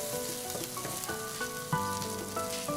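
Lamb cag kebab meat frying with a steady, close sizzle and crackle, broken by faint clinks and scraping of utensils, no voices.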